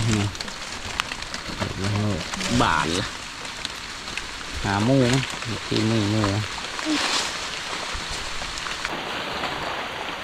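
Steady rain falls with a continuous hiss during a mushroom-foraging outing, while someone talks at intervals over it.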